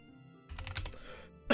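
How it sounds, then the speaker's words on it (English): Quick burst of typing on a computer keyboard, a short flurry of close, crisp key clicks lasting under a second, followed by a sharper clack, in an otherwise quiet room. "I can't even type."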